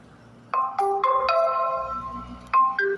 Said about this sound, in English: So that was my alarm for my meds.